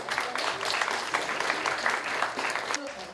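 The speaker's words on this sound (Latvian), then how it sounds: "Skaļus aplausus izpelnas puišu četrotne" Loud, steady applause from a school youth festival audience in Priekule county, greeting a group of four boys. Dense clapping fills the whole moment without a break and fades slightly near the end.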